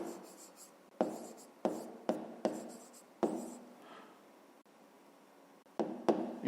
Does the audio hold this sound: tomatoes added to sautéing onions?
no